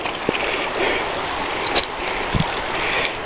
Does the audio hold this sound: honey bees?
no